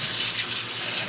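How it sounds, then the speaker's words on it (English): Tap water runs steadily into a kitchen sink for rinsing raw kale, a continuous close hiss of flowing water with no talking. "we're gonna open the water, the tap, and sort of run the water"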